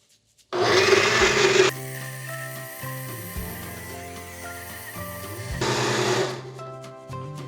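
Blender pureeing a thick cold soup made with lime juice, hot sauce, milk and coconut milk, a loud close motor whir that surges at the start, settles into a lower labored drone, then rises again.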